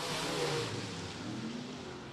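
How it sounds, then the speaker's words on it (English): Open-wheel modified race cars roar down the backstretch at Lake Cumberland Speedway during a heat race, a dense, steady engine drone from mid-distance with a faint rising pitch, no talk over it. "drag race down the backstretch here at the Lake Cumberland Speedway"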